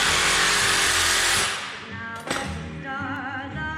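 A reciprocating sawzall blade grinds against the hardened steel shaft of a Smart car front shock absorber, a loud harsh rasping that stops abruptly, followed by quieter scraping and a sharp metallic squeal.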